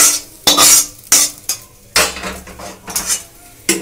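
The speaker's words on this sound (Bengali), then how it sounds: "গ্যাসটা বন্ধ করে আমি একটা পাত্রে আজার করে রাখছি, ঢেলে রাখছি একটা পাত্রে" Cooked cauliflower scraped and poured from a cooking pan into another pot, with a series of loud metallic clanks and scrapes of utensils against cookware, close up and without talk.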